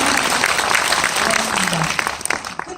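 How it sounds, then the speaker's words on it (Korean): An audience at a talk concert gives a short burst of applause, clapping densely at first and then tapering off. A voice can be heard briefly through the clapping. "그럼 박수 좀 주세요."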